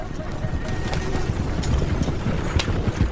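A horse-drawn carriage rolls along a road, hooves clip-clopping in a steady rhythm over a dense rumbling background.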